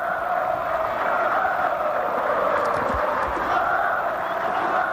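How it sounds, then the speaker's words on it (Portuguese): Corinthians supporters fill a Brazilian football stadium during a 2001 Campeonato Brasileiro match against Grêmio, their chanting a steady, distant roar of massed voices that continues without a break. "você está ouvindo ao fundo o grito da torcida corintiana"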